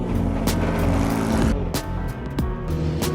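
A race car lapping the Bugatti circuit at Le Mans with Sébastien Buemi, heard onboard: a loud, steady engine roar with sharp shifts and brief dips in pitch as the car works through gears.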